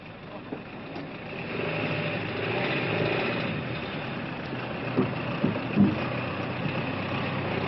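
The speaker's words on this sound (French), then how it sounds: "Après, il faut rouler en convoi." Military vehicles roll in convoy in Guinea, a steady mid-distance engine drone with a few brief thumps and bumps toward the end, no talk over it.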